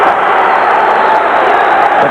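A boxing crowd at an amateur championship bout roars in a steady, dense wash of cheering and noise that fills the whole moment without letup.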